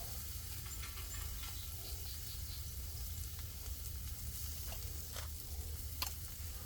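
Strips of bacon fry in a pan with a soft, continuous sizzle and scattered small pops and crackles. The sound stays quiet and even throughout, and no voices are heard.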